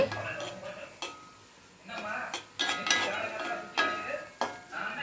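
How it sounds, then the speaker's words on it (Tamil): Onions being sautéed and stirred in a pan, with a metal spoon clinking and scraping against the pan in irregular bursts, close up, and a faint voice in the background. "வெங்காயம் போட்டுட்டு வதக்கி விட்டுறணும்."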